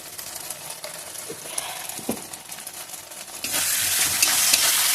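Cumin, coriander and green chilli paste with turmeric and salt being fried and stirred for a banana flower dish, with spoon scrapes over a low sizzle that swells into a loud, hissing fry near the end.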